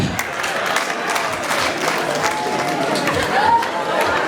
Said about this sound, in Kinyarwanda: amashyi menshi rwose bityo